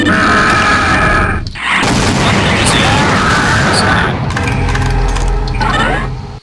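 Repeated rocket explosions and booms in Doom 2 running the CUBE mod on ZDoom, loud and dense with gunfire and monster grunts, broken by a brief gap before the blasts resume.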